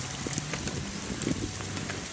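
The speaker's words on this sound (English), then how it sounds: "You weren't specific enough about hail." Hail pelting a tent at a Montana backcountry campsite, a dense steady patter of many small impacts with scattered sharper hits throughout.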